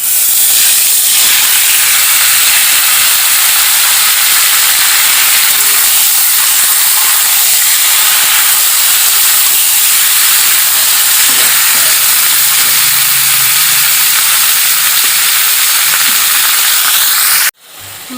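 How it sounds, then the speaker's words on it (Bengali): Chicken meat frying in a pan, browning to a deep red, gives a steady loud hiss and sizzle with faint crackles throughout, cutting off abruptly near the end. "আমি মাংসগুলো এইভাবে আর একটু ভেজে নেব।"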